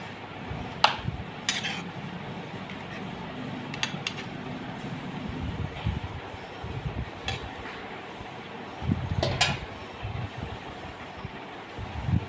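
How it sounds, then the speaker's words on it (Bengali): Curry with added water being stirred in a pot in a home kitchen, with a spoon scraping and clinking against the metal in irregular bursts over a soft, steady background. "ঝোলের পরিমাণ মতন জল দিয়ে ভালো করে নেড়ে দিচ্ছি।"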